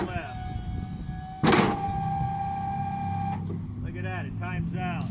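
A truck-mounted snow plow blade sweeps from right to left on a Storks plow controller, giving a steady electric motor whine and hum with a sharp clunk early on, and a voice talks over the end.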